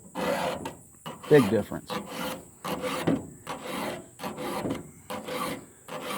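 A file rasping across the teeth of a chainsaw chain in a steady series of about a dozen scraping strokes, close and clear, under a continuous high whine and occasional talk.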